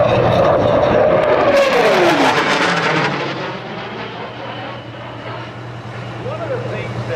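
A military jet in a fleet flyby at the 2012 Naval Air Station Oceana air show roars past under afterburner, its pitch sweeping down as it passes, then fading to a lingering rumble.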